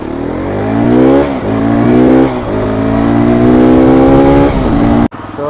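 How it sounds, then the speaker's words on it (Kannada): Hero Xpulse 210 motorcycle exhaust revving loudly up close on a test ride, a steady climbing engine note held across several seconds with brief dips between revs before it cuts off abruptly. "ಎಕ್ಸಾಸ್ಟ್ ನೋಟ್ ಅಂತೂ ಸೈಕ್."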